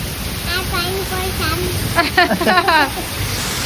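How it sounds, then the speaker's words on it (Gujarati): Heavy monsoon rain pours steadily as a loud, continuous broadband wash throughout, with people talking over it in the foreground. "એવો વરસાદ ધોધમાર ચાલુ"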